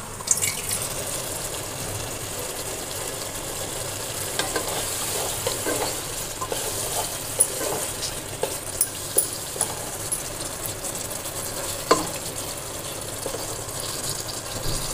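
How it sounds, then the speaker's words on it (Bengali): Meat for haleem sautéing in oil in a pan, with a steady sizzle and scattered scraping clicks of a spoon stirring it over about fifteen seconds, no talk. "আর 1 মিনিট মতো কষাবো।"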